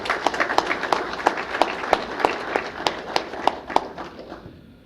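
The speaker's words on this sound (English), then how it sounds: "Let's have a round of applause for them" A round of applause at a mayor's employee recognition awards ceremony, many hands clapping steadily with sharper individual claps standing out, fading toward the end.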